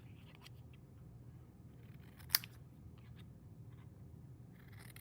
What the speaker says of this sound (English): let's go ahead and trim this ends with scissors.